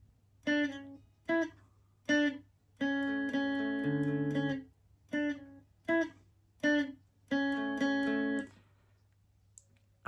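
Clean electric guitar notes ring out unmuted, chugged without palm muting, in short rhythmic hits and a few longer sustained chords, with quiet gaps between.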